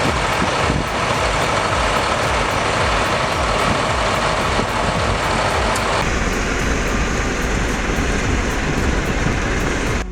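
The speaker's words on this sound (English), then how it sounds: "bulldozer, deep in the mud, yet perfectly in control" A B10M bulldozer working deep in mud, its loud, steady diesel engine roar close and continuous, with broadband rumble and grinding and a slight shift in tone partway through.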